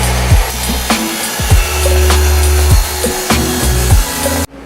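A BMW 335xi muffler's exhaust pipe is cut free at its factory weld with a power saw, the blade grinding in steady rough bursts with brief pauses, close and loud, ending abruptly.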